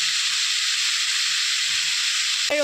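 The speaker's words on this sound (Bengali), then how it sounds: "ওলটাকে ভালোভাবে নেড়ে নেব।" Chunks of elephant foot yam fry in hot oil in a pan, giving a loud, steady sizzling hiss throughout, with a short scrape of stirring at the very end.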